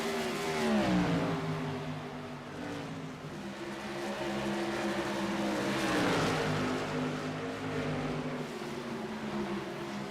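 Modified race cars roar around the oval at Iowa, several engines droning and shifting pitch together as the pack passes, a loud sustained whine that swells and fades with no commentary over it.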